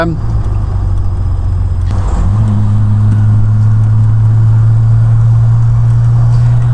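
Triumph Vitesse MKII engine pulling up a steep hill in top gear, a loud steady droning hum from inside the car with a brief shift in tone early, then holding a constant pitch; someone talks over it.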